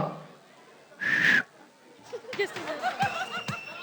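A woman whistles a short, shrill, steady note at an annual company party, then laughter and chatter from the crowd follow.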